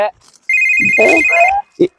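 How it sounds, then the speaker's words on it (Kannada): A telephone ringtone rings in a Uttar Karnataka village comedy sketch, a steady electronic tone lasting about a second amid loud voices talking over it. "ಯಾರ್ದೋ ಫೋನ್ ಬರತೈತಿ ನೋಡ್ರಿ ದೈಲಿ"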